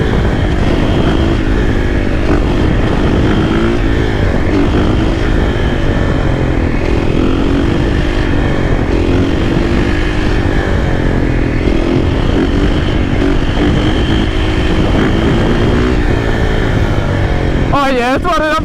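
A supermoto motorcycle rides through city streets at night, its engine droning loud and close with rising and falling revs throughout, and a few sharp blips near the end; a rider talks intermittently over it.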